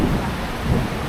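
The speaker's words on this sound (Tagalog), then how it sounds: "Nakaranas din ng ulan." Steady heavy rain hisses with a deep rolling rumble of thunder underneath, loud and close, with no voices.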